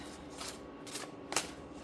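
A deck of tarot cards being shuffled by hand, a few soft riffling bursts close up in a quiet room.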